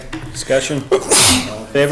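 A single sharp sneeze bursts out mid-way through a town board meeting, loud and close, with people speaking before and after it.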